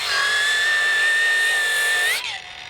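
A Makita 40V XGT brushless 5-inch variable-speed paddle-switch angle grinder at its slowest setting, about 3,000 RPM, whines with a loud steady high-pitched tone while pressed hard into work, then the pitch drops sharply as it eases off near the end.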